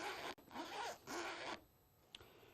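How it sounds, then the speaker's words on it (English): A clothing zipper is pulled in two quick, scratchy strokes close by, followed by a brief pause and a faint click near the end. "That is zippers."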